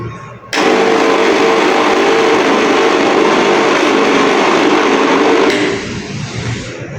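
A loud, malfunctioning mixer grinder whirs steadily for several seconds, starting abruptly and winding down at the end.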